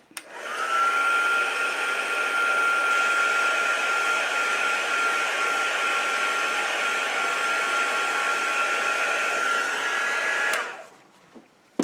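A dryer blowing on a craft journal cover runs as a loud, steady, close whir for about ten seconds, then switches off and leaves a quieter tail.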